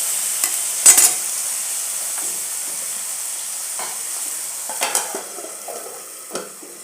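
Onion and tomato pieces soften in a pan on low heat for a drumstick tomato curry, giving a faint, steady sizzle broken by a few brief scrapes and clinks of stirring.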